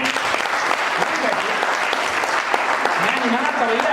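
An audience at a network marketing training session in Haridwar claps loudly and steadily, dense continuous applause filling the space without a pause.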